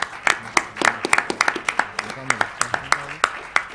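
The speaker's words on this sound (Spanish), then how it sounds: "Muchas gracias y un aplauso para ellos" A small audience at an economics talk gives sparse applause for the speakers, with distinct separate claps in an uneven rhythm and faint voices under them.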